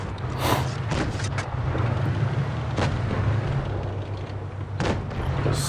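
Tank cannon shots in a tank video game, a few sharp blasts spaced seconds apart over a constant low engine rumble.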